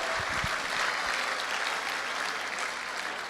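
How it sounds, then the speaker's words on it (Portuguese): Church congregation applauding during a sermon, a steady, dense wash of clapping that fills the whole moment without a break, at moderate level and with no speech over it. "Você pode aplaudir o Senhor"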